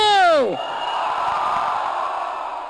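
A hall full of students lets out a loud collective shout at a celebration, a short burst of many voices that sweeps downward, then a sustained crowd roar and cheering that fades gradually.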